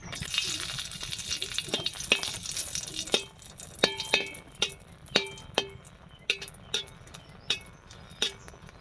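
Three dried red chillies fry in a small amount of oil, giving a soft sizzle at first, followed by a series of sharp metallic clinks and taps as a spatula works the pan.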